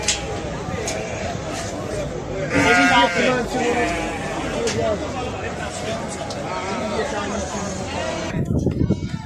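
Romanov sheep bleat repeatedly at a busy livestock market in Nardaran, calls overlapping close by over a steady crowd murmur and background chatter.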